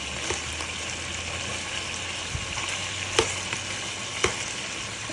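Chicken tandoori and onion fry together in a pan with a steady, close sizzle, broken by a few louder clacks and scrapes as the pieces are stirred and turned.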